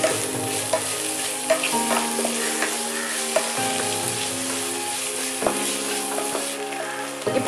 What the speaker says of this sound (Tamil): இப்போ நம்ம வந்து இஞ்சி பூண்டு பேஸ்ட் போடுறோம்.